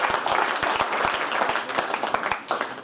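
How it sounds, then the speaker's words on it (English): Audience applause at a talk on water, waste, energy and food, dense steady clapping from a room of listeners, loud and close throughout, with a few sharp individual claps standing out. "Let's give them a round of applause."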